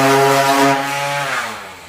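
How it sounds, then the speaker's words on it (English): A power sander sanding wood buzzes loudly with a harsh motor whine, then its pitch sags and the sound fades as it winds down. "I'm going to use a power sander"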